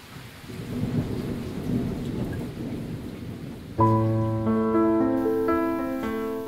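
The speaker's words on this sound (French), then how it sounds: "C'est beau la pluie en été." Summer rain falls steadily on a surface, then thunder cracks in loud and rolls on heavy and sustained over the downpour, with no voices.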